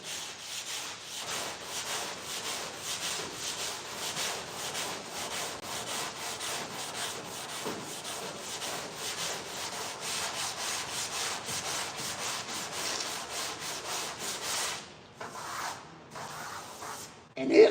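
Steady, faint rhythmic scraping of a sanding block worked back and forth over a car body near a welded-on roof, continuing for a long stretch before brief pauses near the end.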